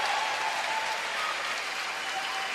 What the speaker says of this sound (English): Crowd enjoying that one.